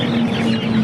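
Native country chickens cluck close by at the Chandapura nati koli market, a short, loud burst of steady hen calls over crowd-market murmur.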